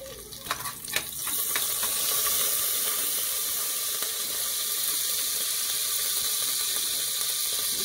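Peppercorns, a piece of cinnamon and curry leaves sizzling in hot oil in a cooker for a Chettinad brinjal aviyal, a few sharp pops at the start settling into a steady close hiss of frying.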